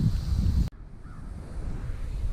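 Wind gusting outdoors by the water while fishing, heard as loud buffeting on the microphone that cuts off abruptly, then a softer steady breeze.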